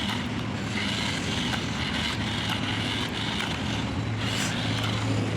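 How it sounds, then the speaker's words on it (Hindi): A Swaraj tractor runs steadily during a gearbox test drive, its engine a continuous low rumble with wind and road noise, loud and close throughout. "ट्रैक्टर की काफ़ी अच्छे से चल रहा है"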